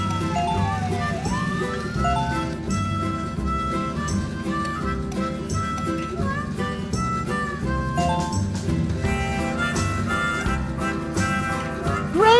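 A fire truck siren wails among cheerful background music in a children's Paw Patrol traffic cartoon game, its sweeping tone rising and falling over a steady musical bed.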